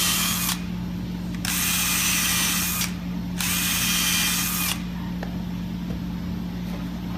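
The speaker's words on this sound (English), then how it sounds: "And we're going to drill this." A power drill drilling wood whirs in two long bursts, revving high and steady with a brief pause between, then stops, leaving a low hum and faint clicks.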